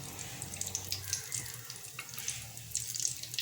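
Egg pakoras coated in gram-flour batter fry in a kadhai of hot oil over medium heat, giving a steady, soft sizzle dotted with crisp crackling pops, with no talking.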